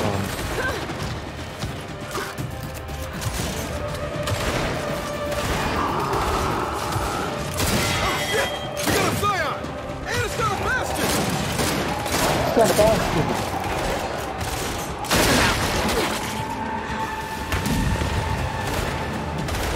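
Enemy gunfire in the Gears 5 campaign: dense, sustained bursts of shots and impacts with booms and crashes, loud and continuous throughout, mixed with game effects.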